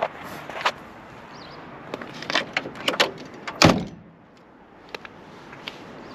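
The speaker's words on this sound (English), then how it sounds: "Let's close the door." Classic MG ZA Magnette door being handled and shut, a scatter of small clicks and knocks building to one solid thud near the middle, then quieter faint taps against a light background hiss.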